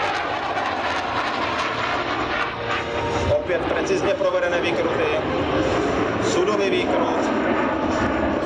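An airplane at an air show flies past at slow speed, a loud continuous engine roar that swells and holds steady, with a commentator talking over it.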